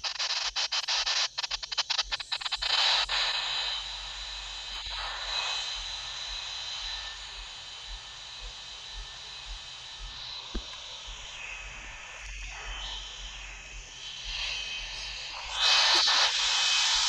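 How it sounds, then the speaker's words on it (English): Airplane engine drone inside the cabin while the landing gear is lowered, a steady loud broadband roar with rattling bursts at the start and a surge near the end, no talking. "Someone trying to put the landing gear down."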